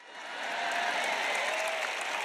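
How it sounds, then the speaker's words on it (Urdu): An audience in a church service applauds, a dense wash of clapping that swells quickly and then holds steady and loud. "اچھائی کے لیے آپ کی تالیاں کہاں ہیں؟"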